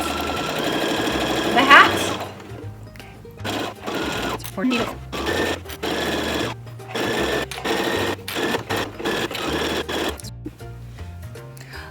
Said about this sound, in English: I'm just gonna stitch around in a complete circle all the way around